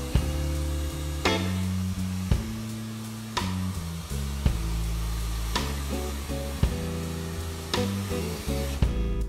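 A hair dryer blowing cool air over hair styled with Maestro matte clay into a pompadour, a loud continuous roar with repeated abrupt shifts in pitch and airflow as it is moved.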